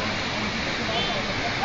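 A constant broadband rush of falling water at the Huexocoapan waterfall, like a waterfall heard nearby, steady and unbroken.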